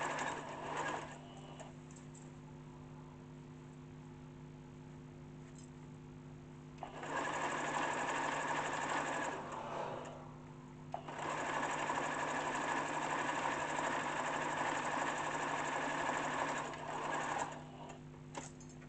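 Sewing machine stitching African print kaftan fabric, running in steady bursts with brief pauses between seams, close and continuous with no talking.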